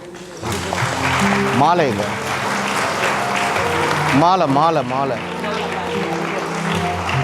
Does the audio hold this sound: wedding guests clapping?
yes